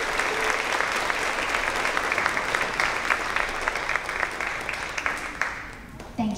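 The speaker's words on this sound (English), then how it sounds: "Let's give these two boys and girls a round of applause." Sustained applause from a crowd of families at a fourth grade promotion ceremony, many hands clapping in a dense, steady wash that stays loud and fades slightly near the end, with faint voices mixed underneath.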